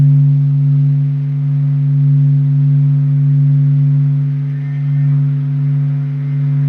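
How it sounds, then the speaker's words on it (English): Recording presented as the sound of the sun, a steady, loud low hum with strong harmonic overtones, droning continuously with slow gentle swells in volume and nothing else heard. "this is the sound of the sun"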